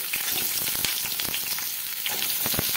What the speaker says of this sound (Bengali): তেল গরম হয়ে গেছে, পটলগুলো আমি দিয়ে দিচ্ছি